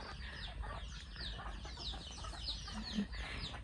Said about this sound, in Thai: มุมนั้นก็จะมีไก่กำลัง กินกันอยู่ค่ะ